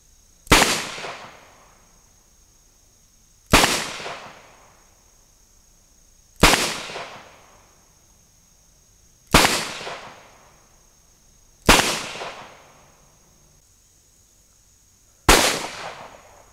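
Six sharp, loud bangs from a revolver fired single action, spaced roughly three seconds apart, each with a brief decaying ring and nothing between shots.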